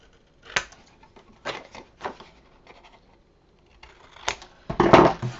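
Scissors snipping off fabric corners for a baby folio, a handful of short crisp cuts spaced out, then a louder rustling cut at the end, close and without talk.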